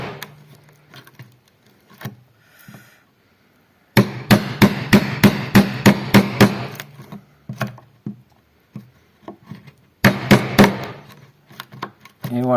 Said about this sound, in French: Donc là, je vais à peu près jusqu'à la moitié de l'épaisseur, toujours en alternant mon ciseau.